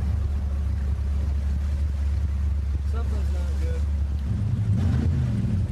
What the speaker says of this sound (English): Thank God the engine doesn't sound too bad.